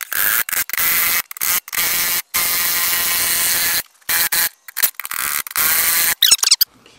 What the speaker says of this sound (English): Now we got to break the bead.